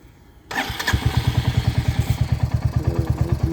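A Royal Enfield Hunter motorcycle engine starting: the starter catches abruptly and the single-cylinder motor settles into a steady, loud, close idle with evenly spaced thumping pulses.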